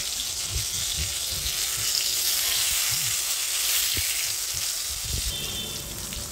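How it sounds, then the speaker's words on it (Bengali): Dal being tempered with spices in a hot pan gives a loud, continuous close-up sizzle with hissing and crackling, plus a few soft clanks of stirring. "ডালটা ফোড়ন দেবো"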